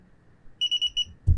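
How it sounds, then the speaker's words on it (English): A DSC Neo touchscreen keypad sounds its police panic alarm in four quick, loud electronic beeps in a steady rhythm, close by, followed by a brief thump. "So now it's in alarm for police panic."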